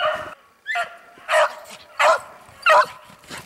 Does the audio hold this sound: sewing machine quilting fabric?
no